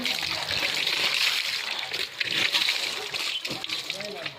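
Water runs and splashes steadily over a motorbike during a wash, a continuous broadband hiss with spatters, heard under someone talking throughout.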